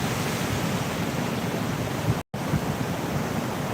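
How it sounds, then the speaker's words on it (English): Wind blows across an ocean fishing pier, a steady broadband rush like surf or gusting air, constant and fairly loud with a brief dropout midway, no voices. "It feels pretty windy out here."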